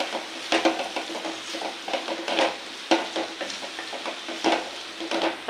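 Ivy gourd thokku gets stirred in a pan with a spoon, giving repeated scraping and knocking strokes over a soft continuous sizzle, close and irregular in rhythm.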